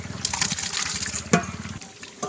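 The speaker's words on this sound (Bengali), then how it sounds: "সেই সিদ্ধ ডাল এখন আপনার দিয়ে দিচ্ছি। দেখে সুন্দরভাবে ডালটা দিয়ে দিচ্ছি।" Boiled chana dal from a six-kilogram batch is poured into a cooking pot, giving a brief, wet, gushing slosh, with a voice talking underneath.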